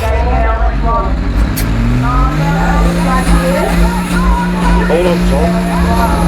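A Challenger tractor's engine roaring loudly and continuously during a tractor pull, its pitch climbing and then holding steady, with spectators talking close by over it.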